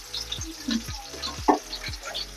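Fish frying in a pan over low to medium heat, a close, continuous crackling sizzle with scattered louder pops and spits, no talking.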